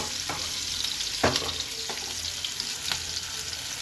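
Onion, garlic and chilli sizzle in a pan as they fry for poi saag, a steady crackling hiss broken by a few sharp stirring clinks and scrapes, close and fairly loud.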